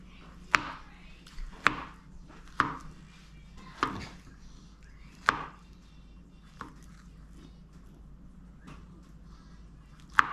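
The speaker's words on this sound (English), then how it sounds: "Would you like to chop up the banana?" Knife chopping a banana, a series of sharp, close chops at irregular intervals, about eight cuts, fairly quiet between strokes.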